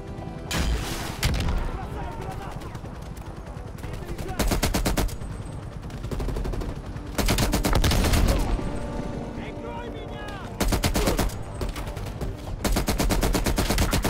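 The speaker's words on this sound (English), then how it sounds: "shoot my last rocket at the side of the motel" Rocket launcher blasts and bursts of gunfire from the game Call of Duty Black Ops Cold War at a motel, loud repeated shots and booms in clustered volleys across the whole stretch, with a faint voice now and then.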